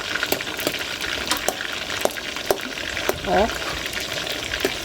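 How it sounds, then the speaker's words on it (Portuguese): Banana frying in leftover chicken fat in a pan, with a steady crackling sizzle and scattered sharp pops and spatters, while a person speaks briefly over the cooking. "Dá pra fritar uma bananinha nela"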